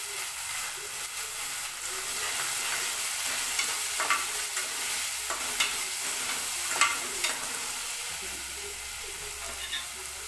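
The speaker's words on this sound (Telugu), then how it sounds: "కొంచెం సేపు ఆయిల్లో వేగనివ్వాలి కాబట్టి ఈ మినపప్పు వేసుకోవాలి" Urad dal fries in hot oil with a continuous, fairly quiet sizzle and scattered light stirring scrapes over about ten seconds, with no one speaking.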